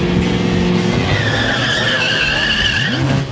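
A 500-horsepower Holden Commodore VL8 GT screeches its tyres in a long skid, engine roaring loud and close with rising revs near the end, at a street Commodore car event.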